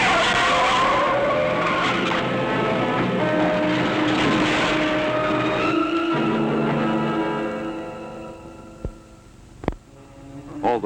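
Car tires skid and squeal loudly for several seconds on a road outside town in 1963, the screech fading into engine hum before a few sharp impact thuds near the end.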